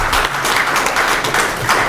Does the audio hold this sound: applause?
yes